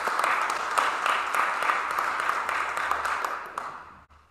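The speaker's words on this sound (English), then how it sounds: "Let's give them a round of applause." A church congregation applauds with a fairly faint, steady wash of clapping that fades out toward the end.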